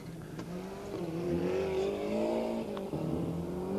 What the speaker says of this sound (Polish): Jest to samochód rajdowy.